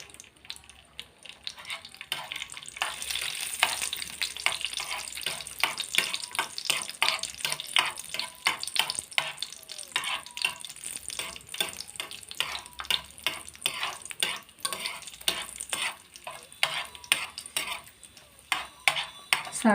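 Cashew nuts fry in melted ghee with a dense, crackling sizzle close by, while a spoon scrapes and clinks against the pan in a fast, steady rhythm throughout.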